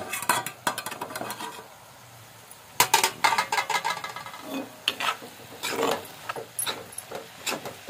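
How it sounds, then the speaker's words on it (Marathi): A cooking pot's lid is lifted off with metal clinks and scrapes. The pot holds takla wild leafy vegetable cooked Malvani style, and a water pot had been set on the lid. Scattered clatters come close by, then a busier burst, with no talk. "आता आपण झाकण काढून बघूया."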